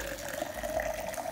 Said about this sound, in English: I'm going to pour the hot water in here.